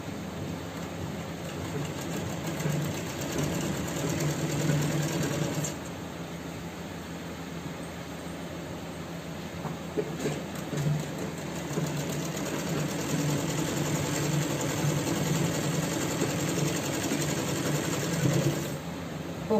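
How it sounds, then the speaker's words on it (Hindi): A sewing machine stitches pants with a steady close mechanical whir and rapid needle chatter, pausing briefly twice before running on, with no talking. "अब हम दूसरी तरफ से सिलाई कर रहे हैं,"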